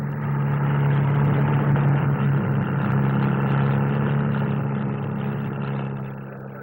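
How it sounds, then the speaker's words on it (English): A single-engine Bristol Sycamore helicopter hums at the 1957 SBAC Farnborough flying display, a steady, loud engine drone with a low tonal throb that eases slightly toward the end. "With the 173 is the single-engine Bristol Sycamore."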